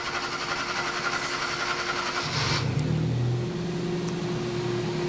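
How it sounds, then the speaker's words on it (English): A car engine cranks steadily for about two seconds during diagnostic testing, then catches and settles into a low, running drone. "we fire it up, it's going to be a long crank"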